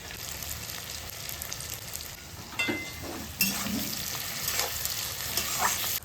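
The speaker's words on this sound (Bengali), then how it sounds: "পেঁয়াজটা আমাকে প্রায় ষাট পার্সেন্ট ভাজা হয়ে গেছে" Chopped onions and green chillies with salt frying in a pan, a steady close sizzle with occasional stirring scrapes and brief louder spits.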